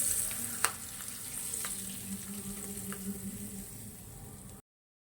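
Hot oil tempering poured over chickpea curry sizzles and crackles steadily with a sharp pop near the start, then the frying hiss fades slightly before cutting off.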